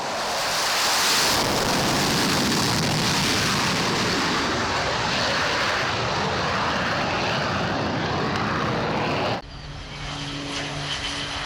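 A South Korean FA-50 light attack jet, an upgraded T-50, flies with a loud, steady, broadband engine roar that holds for about nine seconds before cutting off abruptly into quieter background. No voices.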